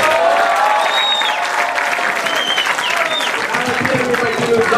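Loud, dense applause fills a hall at a Russian university graduation ceremony, sustained and even throughout, with scattered voices and whistles mixed into the crowd noise.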